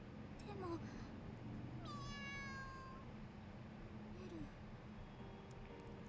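A cat meows in a video game, Totono, with several rising and falling mewing calls over a steady bed of game background ambience, fairly close and clear.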